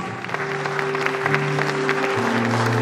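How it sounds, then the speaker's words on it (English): Parents at a school prize distribution ceremony clap for a top-ranked student, a steady crowd of hands growing slightly louder over a faint sustained tonal hum. "Please clap for his outstanding performance"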